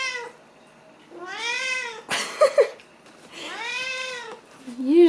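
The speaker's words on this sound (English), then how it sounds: "Whenever Poki meows a lot, Haku tries to calm him down by licking him." A pet cat named Poki meows repeatedly and loudly up close, several drawn-out rising and falling cries separated by short pauses, with brief bursts of a person's voice in between.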